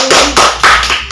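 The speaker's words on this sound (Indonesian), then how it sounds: "Yuk, tepuk tangan buat kita semua." A classroom group of children and a teacher clapping hands together, three quick loud bursts of applause close by.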